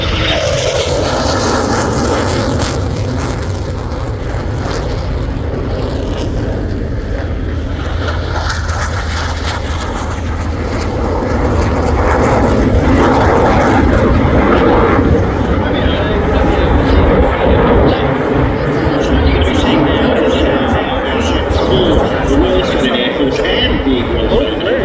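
Several P-8 Poseidon jet aircraft pass overhead in a formation flyby, a loud, continuous engine roar that builds and sustains over about 25 seconds, with a voice talking beneath it.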